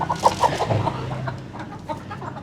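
Chickens cluck at a farm holding hybrid pullets and breeders, with a few close, clipped calls and softer clucks scattered over a faint background.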